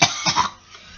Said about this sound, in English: The controller started coughing.